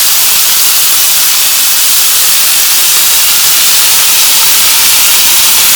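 Alfam chicken sizzles in a lightly oiled frying pan, a loud, continuous hissing crackle that stays constant throughout with no talk over it.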